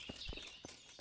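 Horse hooves clip-clopping in the medieval role-playing game Kingdom Come: Deliverance, a few faint, uneven hoof thuds over a quiet ambient background.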